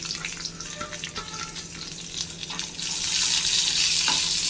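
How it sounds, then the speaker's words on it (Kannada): Onions frying in a pan for tomato chutney, a soft crackling sizzle that grows louder and hissier partway through, with faint stirring knocks and no voices. "ಈರುಳ್ಳಿನೂ ಫ್ರೈ ಮಾಡ್ಕೊಳ್ಳೋಣ."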